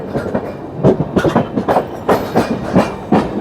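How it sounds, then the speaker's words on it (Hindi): A passenger train on the Delhi to Ranchi Jharkhand Sampark Kranti route runs slowly near Tundla, its wheels beating a loud, regular clickety-clack over the rail joints in repeated paired bursts. "हमारी ट्रेन टुंडला से धीरे चल रही है"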